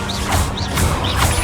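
A Levioso spell cast in Hogwarts Legacy: a series of short bursts with bright, rising whistling tones repeating about every half second over a steady low rumble.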